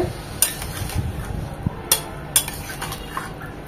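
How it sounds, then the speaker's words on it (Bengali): A spoon stirs ripe tomato chutney with spices and turmeric in a pan, with gentle scraping and a few sharp metallic clinks against the pan's rim, close and steady. "মশলার সাথে খুব ভালোভাবে নেড়ে চেড়ে মিশিয়ে নেব"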